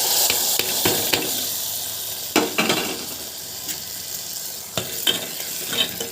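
A ladle stirs sago and fried vermicelli with cashews as the payasam simmers, making repeated wet scraping and sloshing strokes against the pot over a steady bubbling hiss, with no voices.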